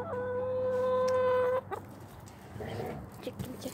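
A chicken named Mango gives a long, loud drawn-out cluck close by, followed by softer quieter clucking and rustling.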